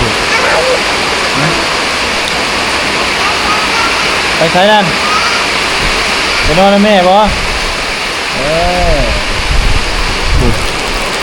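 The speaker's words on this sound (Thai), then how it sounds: "เย็นสบายแบบนี้เนาะฟ้าฝนมาเลย" Heavy rain falls in a steady, loud, close roar through the whole stretch at a rural Thai family home, with people talking over it now and then.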